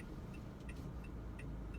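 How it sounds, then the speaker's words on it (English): A car passes on the road, a low continuous engine and tire rumble heard from inside a 2017 Toyota Camry or Avalon, steady and fairly quiet. "I'm gonna let this car pass"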